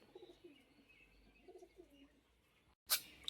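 A single female pigeon coos softly, with low rounded calls repeating through a quiet room before a brief sharp burst of noise at the very end.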